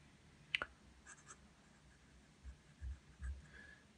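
Namisu Horizon fountain pen with a steel Bock nib ground from medium to fine or extra fine, writing wet on paper: faint, close scratchy strokes in a few brief bursts, with soft low bumps against a quiet background.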